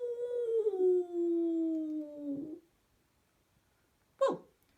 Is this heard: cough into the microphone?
no